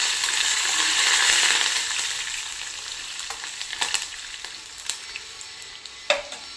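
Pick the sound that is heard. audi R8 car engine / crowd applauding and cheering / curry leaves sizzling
curry leaves sizzling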